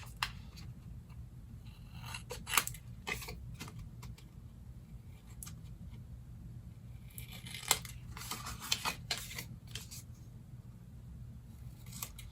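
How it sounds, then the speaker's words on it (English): Album paper is trimmed with a cutting tool, producing sparse, quiet clicks and snips in bursts against a soft low background hum. "I'm going to trim ever so slightly right along here."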